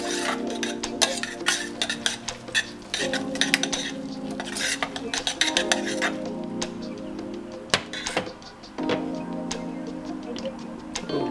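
A utensil mixes dry ingredients, including brown sugar, in a new pot, with steady close scraping and rapid clinking against the metal that continues almost without pause, no voices present.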